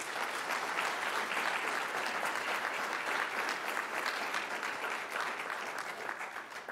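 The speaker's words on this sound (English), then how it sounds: "please give a round of applause to all of those who are here supporting our teachers" Steady, dense applause from a ceremony audience honoring supporters of teachers, continuous and even for several seconds, tapering slightly at the close.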